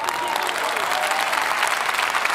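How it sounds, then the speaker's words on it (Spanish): Dense, steady applause from a crowd at a Christian preaching service, continuous clapping that fills the whole stretch at an even, fairly loud level without any talking. "no me importa, yo me aplaudo"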